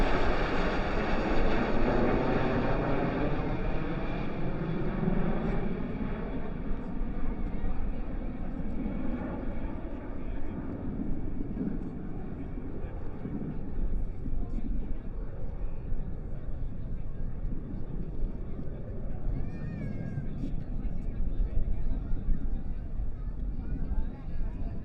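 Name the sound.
F-16 fighter jets flying over air show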